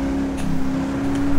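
Car engine in GTA V, a steady droning engine note with a sustained tone, fairly loud and continuous, without speech.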